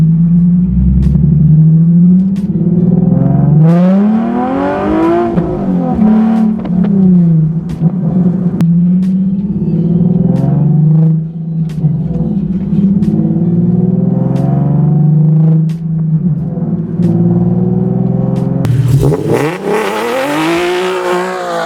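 A Nissan 370Z with a manual gearbox being driven, its engine revving up and dropping back repeatedly through gear changes, loud and close, with a final hard rev near the end.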